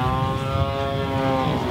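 A 38cc gasoline engine drives a radio-controlled airplane in flight, a continuous buzzing propeller drone with a steady tone, moderately loud and alone, with no voices.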